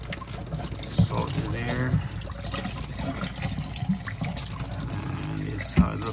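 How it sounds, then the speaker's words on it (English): Water runs over a muddy fog light assembly during rinsing, a steady splashing flow with a few sharp knocks, heard close up under a man's speech. "I'm just rinsing it now."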